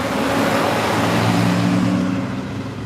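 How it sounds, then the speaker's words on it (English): A loud car roars past at close range, a broad steady engine and tire rumble that swells and then eases off, with no talk over it. "there's of course that one loud car."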